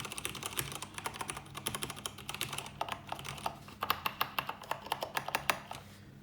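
Clacky mechanical keyboard switches typed on an Ergodox-style plastic-plate split keyboard fitted with sound-deadening foam, giving a steady run of sharp, close keystrokes that get louder and more distinct toward the end, with no talking.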